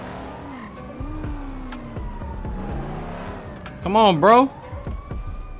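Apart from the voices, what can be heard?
ambulance siren approaching, from a video game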